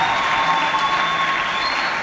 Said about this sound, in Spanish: Tenemos un fuerte aplauso para el ingeniero de sonido,